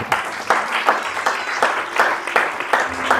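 A church congregation claps in a steady rhythm to acclaim the Lord, a fairly close, even wave of applause with no break.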